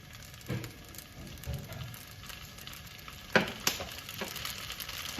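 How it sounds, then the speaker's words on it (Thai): Hong Kong kale stir-fries in a pan with a little sesame oil, giving a continuous close sizzle with stirring scrapes and two sharp utensil clanks partway through. "จากนั้นนะคะเราก็จะนำผักคะน้านะคะมาผัดค่ะ"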